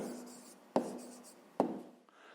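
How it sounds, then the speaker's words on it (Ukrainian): A pen scratches quietly on paper, writing a maths answer by hand in short continuous strokes broken by two sharp taps, close and faint. "Пишемо відповідь."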